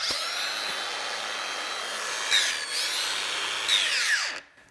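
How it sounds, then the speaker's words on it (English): A Makita 18V LXT brushless X-Lock cordless angle grinder whines at high speed, dipping twice in pitch as it bites into a knife during test grinds, then spins down at the end. "Try a few test grinds."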